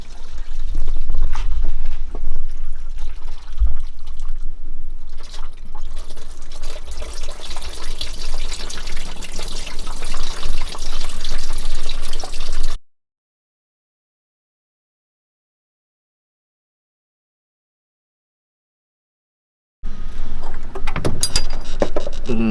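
Coolant pours and splashes from a burst radiator line on a Mitsubishi L300 with a 4D56 engine, a steady loud liquid rush for about twelve seconds, then silence, then the pouring resumes briefly.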